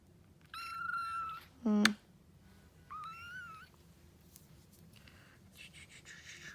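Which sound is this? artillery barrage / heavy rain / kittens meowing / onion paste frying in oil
kittens meowing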